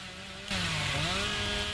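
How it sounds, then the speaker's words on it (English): The Hillbilly's chainsaw in the video game Dead by Daylight revs up abruptly partway through, a loud, harsh buzzing roar with wavering pitch that carries to the end, after a quieter low engine idle. "hitting her with your special item, which is the chainsaw for the hillbilly"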